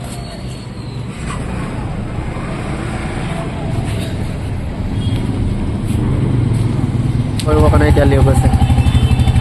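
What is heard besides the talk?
new motorcycle engine at bike dealer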